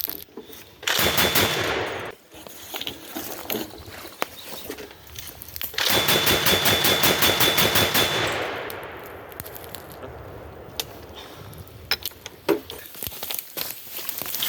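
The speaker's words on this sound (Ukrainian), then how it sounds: "Постріл." Bursts of rapid gunfire from an MK19 automatic grenade launcher crack out in several volleys, loud and close, with quieter pauses and scattered clanks between them.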